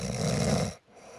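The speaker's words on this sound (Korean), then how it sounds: "코골이 소리가 심각하면 남에게도 피해를 줍니다." Loud, close snoring in one long rasping breath that cuts off abruptly, followed by quiet; no one talks.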